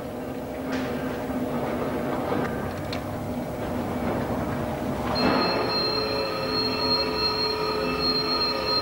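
A New Zealand Railways diesel locomotive rolls along with steady rumbling and wheel squeal, leaving a railway workshop, with a sustained high metallic screech rising in the second half.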